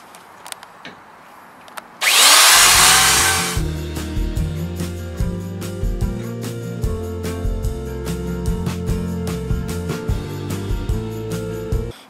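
A router rounds over the edges of a wooden RV headboard: a sharp, loud burst as it starts, then a steady high whine with uneven load changes as it cuts along the edge, with no voices.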